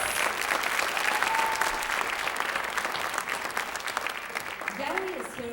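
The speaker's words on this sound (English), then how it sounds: "A big round of applause, please." An audience at a Bollywood Bash event applauds steadily for several seconds after a unicycle performance, a dense wash of clapping that fades slightly near the end as a voice begins to speak.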